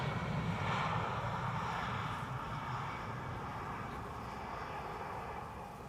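A Boeing 747-8 cargo jet arriving from Paris on approach to runway 18R at Amsterdam Schiphol, a steady, loud, broad engine roar that fades slightly over the seconds, with no voices.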